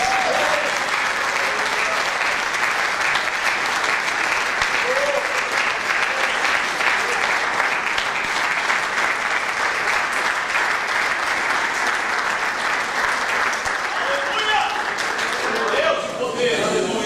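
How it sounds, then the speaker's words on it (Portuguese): A church congregation at a Tuesday evening worship service applauds steadily and loudly for the whole stretch, a dense continuous clapping with a voice faintly audible beneath. "aplauda o Espírito Santo"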